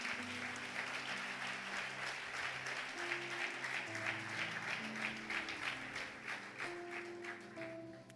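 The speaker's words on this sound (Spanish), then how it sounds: "¿Cuántos podemos dar un aplauso fuerte al Señor?" A church congregation applauds loudly during a Spanish-language sermon, a dense, steady wash of clapping from many hands that lasts for several seconds, with a sustained musical tone beneath it.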